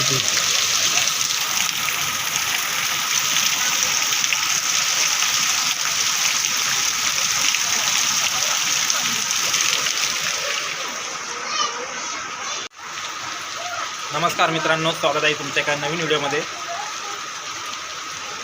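Heavy rain pours steadily outside as a continuous hiss, briefly dropping out once, while an adult and children talk over it.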